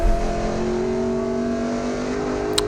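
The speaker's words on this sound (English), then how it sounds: "You can see I'm going down to second gear now" Race car engine in a Gridlife GLTC race at Mid-Ohio, heard as a steady loud in-car drone with a strong tonal hum and a slight swell at the start, consistent with dropping a gear.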